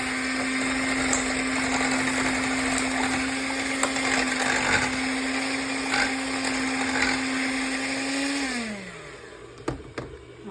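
An electric mixer whirs steadily through sugar cookie dough for several seconds, close and loud with a constant motor drone, then winds down as it is switched off, followed by a few light clicks.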